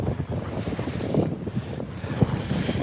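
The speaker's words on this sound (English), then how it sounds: "we're out here having some fun, getting beat up by the wind and the waves." Wind buffeting and waves lapping on a lake, heard from a fishing boat: a steady, close roar of wind noise with choppy water slaps underneath, no talk.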